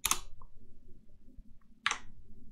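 Two crisp computer mouse clicks, well apart, close and distinct against near silence.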